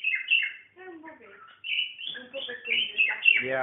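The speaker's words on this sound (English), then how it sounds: "Yeah, he's just tweeting." A pet budgie tweets and chirps in bright, rapid bursts close by, mixed with short warbling phrases that continue throughout the few seconds.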